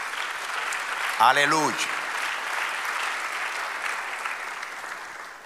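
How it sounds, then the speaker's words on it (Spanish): Church congregation applause, a continuous, even wash of many hands clapping throughout, with a single voice calling out briefly over it near the start. "Denle un aplauso al Señor."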